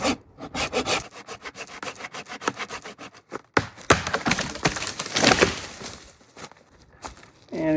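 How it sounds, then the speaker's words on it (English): Hand saw cutting through a dead tree for firewood outdoors at a Loess Hills campsite, a close, rhythmic rasp of repeated back-and-forth strokes with short pauses, loud and mostly alone. "I'm gonna go ahead and cut this tree down"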